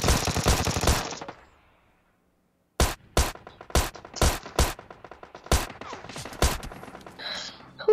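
Bursts of gunfire from an online shooter video game, about eight sharp separate shots spread across the second half after a short silence, loud and close, with other game noise between them.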